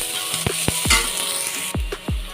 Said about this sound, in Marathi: जो आपला कांदा चिरलेला होता तो घालायचा आहे. कांदा घातला.